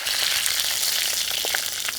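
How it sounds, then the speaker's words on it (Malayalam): Steady crackling sizzle of curry leaves and chilies frying in oil after mustard seeds have popped, with brief louder pops standing out near the end; continuous and close, no voices. "കടുക് പൊട്ടി കഴിയുമ്പോൾ ആ കറിവേപ്പിലയും മറ്റൽ മുളകും ചേർത്ത്"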